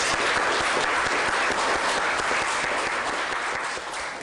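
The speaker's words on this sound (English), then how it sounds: "And I'd like to give you a round of applause." A room in the Red Hook Community Court breaks into applause, dense even clapping from a small group that holds steady and eases off slightly at the end.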